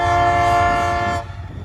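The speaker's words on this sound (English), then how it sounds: "Horn sounds awesome" A loud, sustained freight train horn blares steadily for over a second, then cuts off, leaving low rumbling rail noise near a hump yard.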